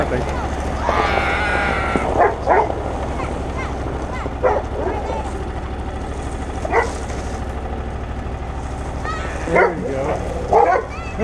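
Several farm dogs let out yips and short barks while running during a sled ride, nearby and scattered across a steady low engine drone, with people talking intermittently.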